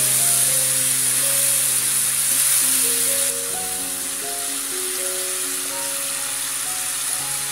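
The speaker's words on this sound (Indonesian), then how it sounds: "Kita tumis bersamaan dengan bumbu-bumbu yang sudah kita haluskan." Ground spice paste sizzles as it is sautéed in a pan for cabbage-style stir-fried water spinach with oyster sauce, a steady close hiss of frying under soft background music, with no voices.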